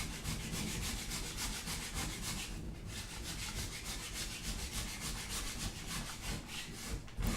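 Steady rasping scrape of a tool working a flat wooden dance pad panel, continuous rhythmic strokes throwing off shavings, close and moderately quiet with no voices.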